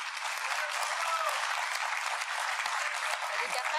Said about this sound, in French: On peut applaudir le bandeau.